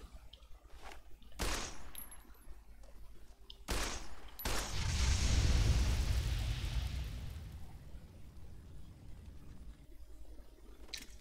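Explosions and gunfire in Fallout: New Vegas with the New California mod: sharp blasts near 1.5 and 4 seconds, then a loud rolling boom that swells and fades over several seconds into quieter crackling.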